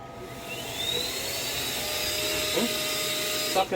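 A Milwaukee cordless air blower run in reverse to deflate a pool float, a steady high whining, rushing motor and airflow held at a constant level close by, with a brief change near the end.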